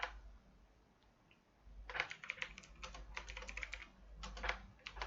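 Fingers tapping on a computer keyboard in a quiet room, typing text in a Notepad file as a quick, irregular patter of soft clicks, with a short pause before the keystrokes resume.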